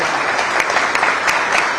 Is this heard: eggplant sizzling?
no